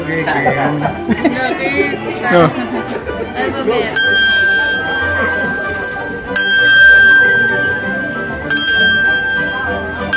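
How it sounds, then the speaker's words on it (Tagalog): A bell at a coffee farm in Amadeo, Cavite is struck several times for wishes, bright ringing tones that sustain and overlap while people chatter and talk nearby. "Anybody po na gustong mag-ring ng bell para sa inyong wishes?"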